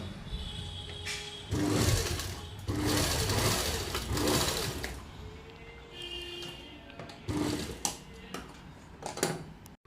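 A sewing machine stitching a rubber band bracelet, running in several short bursts of rapid mechanical whirring separated by brief pauses, fairly close and moderately loud.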